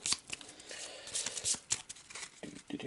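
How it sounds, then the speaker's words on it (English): Loot cards from the Shadows of Brimstone board game being shuffled by hand, a quiet, close run of crisp riffling and papery flicks in irregular bursts, with no talking. "Give them a good shuffle."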